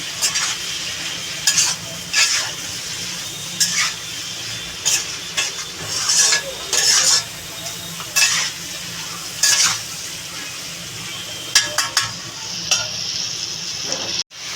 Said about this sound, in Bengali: লঙ্কা গুঁড়ি দিলাম আর এদিকে এই যে হলুদ এবার এটাকে আর একটু কষাবো